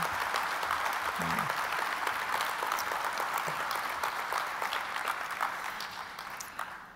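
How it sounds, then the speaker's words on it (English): An audience applauds at a chamber of commerce annual meeting and dinner, steady dense clapping that fills the room throughout and thins slightly toward the end. "may I ask you all to give him one more round of applause for being with us tonight"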